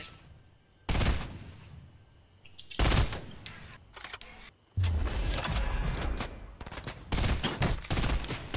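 Gunfire in the battle royale game Fortnite comes as loud, sharp bursts of rapid shots in several separate volleys, with short quieter gaps between them and a longer sustained stretch of firing in the second half.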